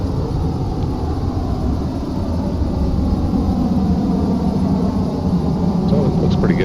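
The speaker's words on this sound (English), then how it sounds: "So the external jet sounds aren't that great." External jet engine of a LearJet 35A in the MSFS flight simulator, a steady loud low roar and rumble that holds evenly throughout, with a voice talking over it.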